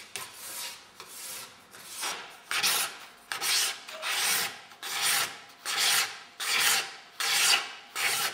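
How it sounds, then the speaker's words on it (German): Steady back-and-forth rasping strokes, about one per second, as abrasives are rubbed over tortoiseshell up close, with no voices. "wird das ausgewählte Stück mit Zieglingen und Schleifmitteln geglättet und poliert."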